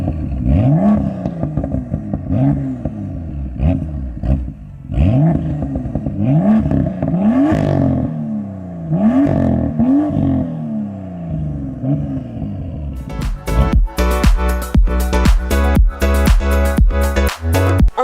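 A 2018 BMW M2 with an active stainless steel M Performance exhaust revs repeatedly, about seven rising blips close by, then breaks into a rapid, loud burst of crackling pops near the end.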